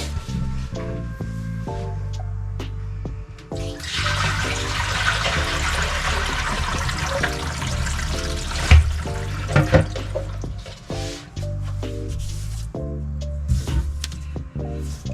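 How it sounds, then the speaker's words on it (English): A bucket of water is poured into a bathroom drain, a steady broadband rush and splash lasting several seconds between scattered knocks and handling sounds. "Now I'm gonna actually dump a bucket full of water in there and we'll see if we have any drips."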